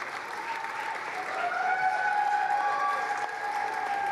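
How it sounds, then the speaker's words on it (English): Crowd applause greeting Andy Burnham's declaration as winner of the Makerfield by-election, a steady wash of clapping from many hands that swells slightly midway and carries on throughout. "amid applause from the crowds, Andy Burnham shakes the hands of those who stood against him"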